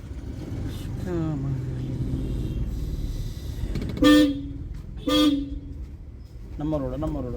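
Several car horn honks blare over road traffic noise, two loud short blasts in the middle and other toots, with people talking nearby, during a driving lesson on a road.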